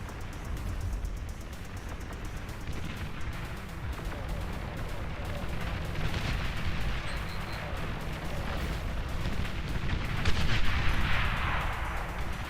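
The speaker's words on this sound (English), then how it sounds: "Long-range plasma cannon detected." Long-range plasma cannon fire in a shooter video game rumbles and booms continuously, a dense roar of heavy blasts that swells louder toward the end.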